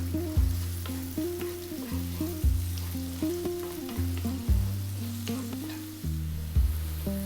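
Finely chopped onion and garlic fry in a pan over above-medium heat, a soft, steady sizzle that sits beneath louder background music.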